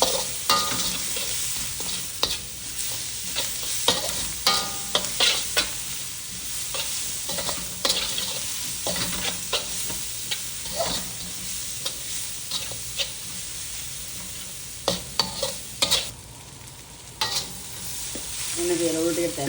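Vegetables fry in a pan for rice noodles and get stirred the whole time. A constant bright sizzle runs under repeated scraping and clacking of the utensil against the pan, close up with no talking.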